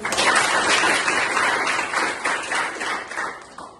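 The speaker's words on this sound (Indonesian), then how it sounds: "Betul, tepuk tangan dong" A classroom of students clapping their hands together in a mathematics lesson, a dense, steady burst of many hands that stays loud and close for the whole stretch, fading slightly at the end, with no talk over it.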